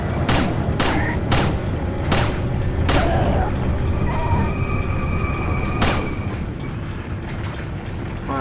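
Pistol gunfire in the video game Resident Evil 4: about six sharp shots in uneven succession, four close together early and one more a few seconds later, over a steady loud game ambience.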